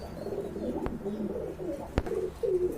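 Soft, low cooing from pigeons repeats in gentle rolling phrases, close and fairly quiet, punctuated by two sharp taps.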